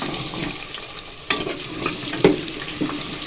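Onion fries in about two tablespoons of oil in a pan for a pulao-style dish. A steady, close sizzle runs throughout, marked by a few sharp clanks and scrapes from stirring.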